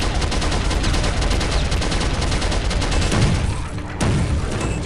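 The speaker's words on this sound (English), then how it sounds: "I shot him in the throat with a slug thrower" Rapid, dense gunfire from the slug thrower weapon in the shooter video game Soldier of Fortune, loud and continuous with booming impacts and a brief break near the end.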